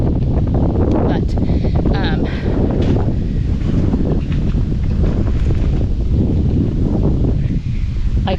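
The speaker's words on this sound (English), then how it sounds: "It's probably windy" Gusty outdoor wind buffets the microphone in a loud, continuous rumble, with rustling throughout and some talking mixed in.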